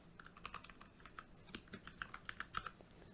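Fingers tap out a project name on a computer keyboard in a steady run of light, quick keystrokes, heard alone in a quiet room.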